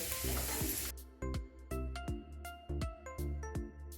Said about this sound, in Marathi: कच्चा बटाटा आहे तो पण फ्राय करून घेऊया